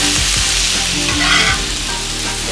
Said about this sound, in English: that awesome sizzle to everything